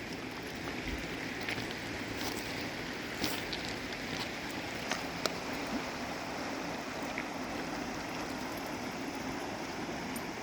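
A river flows steadily in a morning outdoor setting, a continuous soft broadband rush of water heard alone and fairly faint throughout, with a few brief clicks.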